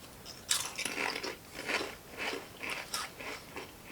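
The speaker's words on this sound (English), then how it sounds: "If you bite into this, it's not really crunchy." Mister Potato sour cream and onion potato chips crunch as someone bites and chews them, a series of sharp crisp crackles repeating at a steady pace, close up and with no talking.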